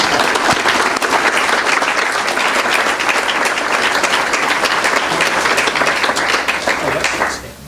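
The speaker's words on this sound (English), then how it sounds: "please applaud one more time as we welcome Dr." A large lecture audience applauds steadily to welcome Dr. John Penheiro, a dense, loud wash of clapping that holds for about seven seconds before tapering off at the end.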